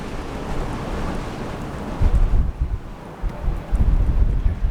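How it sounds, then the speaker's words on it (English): Strong wind gusts buffet a truck parked near a wildfire, a steady roaring rush with heavier low thumps and blasts in the second half, close to the microphone and without speech. "Oh, there goes the wind gusts. Blowing the truck."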